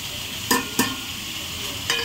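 Ground spices and tomato paste fry in a pan for a boal fish and potato curry, with a steady soft sizzle broken by a few sharp scraping stirs.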